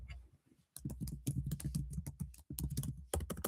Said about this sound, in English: Let me type it in right now.